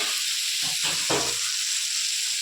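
Salted fish fries in a pan with a constant bright sizzle and hiss, with a brief louder burst of frying noise partway through and no voices.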